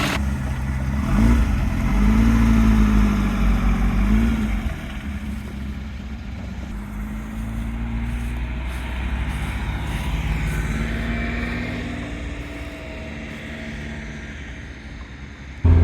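A Lotus Ford Cortina Mark I being driven, its engine droning steadily from inside the car, with a louder revving stretch early on that settles into an even cruising hum, and no talking.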